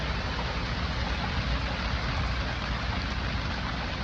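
Steady rain falling at Sharp Field airfield in Tuskegee, Alabama, a dense even hiss with no breaks, fairly loud and close, with nothing else standing out.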